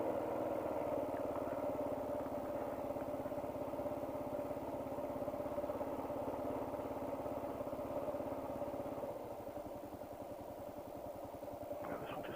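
A KLR 650 adventure motorcycle runs at a steady, even drone with a low pulsing thrum, heard faintly from the rider's position throughout.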